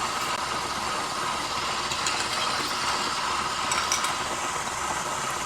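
An electric mixer beats softened butter for raspberry thumbprint cookie dough, giving a loud, steady whirring drone that runs unbroken throughout with no voices.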